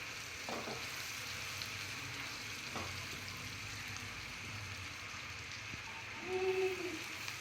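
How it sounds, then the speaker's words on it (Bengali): Spice paste with salt, cinnamon, cardamom and bay leaf fries in hot oil, a steady low sizzle with occasional stirring scrapes and a brief louder crackle near the end. "এখন ভালো করে ভাজবো পেস্টটা লবণ দিয়ে দিচ্ছি"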